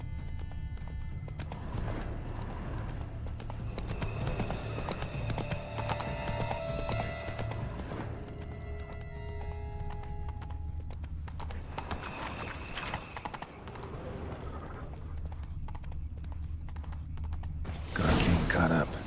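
Roach the horse from the video game Witcher 3, hooves clip-clopping in a steady rhythm with occasional whinnies, mixed with game music and ambient sounds, ending in a louder burst of noise.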